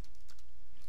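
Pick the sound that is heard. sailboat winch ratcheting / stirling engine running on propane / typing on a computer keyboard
typing on a computer keyboard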